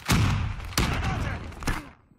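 A grenade explodes in Call of Duty Black Ops III multiplayer, a loud burst followed by further heavy bangs and gunfire rattling within about two seconds before fading out.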